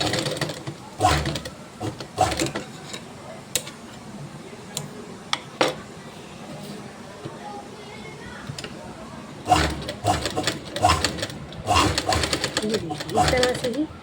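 Sewing machine stitching a pant seam in short bursts, rapid clattering runs separated by pauses and scattered ticks, with someone talking between and over the stitching.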